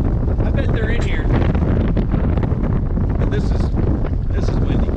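Wind buffets the microphone at a boat launch beside the water, a loud, constant gusting roar with low rumble, while a person's voice speaks briefly over it.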